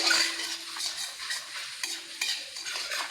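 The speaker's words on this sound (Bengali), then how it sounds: "রসুন কুচিটা দিয়ে একটু ভেজে নেব।" Grated garlic fries in hot oil in a wok for soya chilli, a bright, continuous sizzle broken by several close scraping stirs of a spoon.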